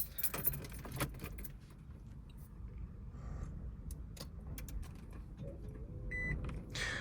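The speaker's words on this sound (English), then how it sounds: "So that's my keys, if you guys are curious." Keys jangle and clink in the hand inside a high-mileage car with a creaking brake caliper, a busy metallic rattle over a low engine hum, with a few faint beeps near the end.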